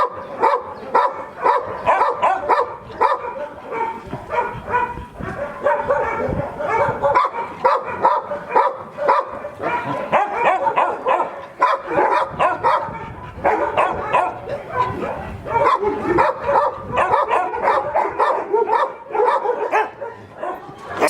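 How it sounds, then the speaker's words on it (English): A dog barks repeatedly in quick, uneven bursts, loud and close, with some yips and whimpers mixed in, continuing throughout in an outdoor setting in Istanbul. "This dog adopted Tom."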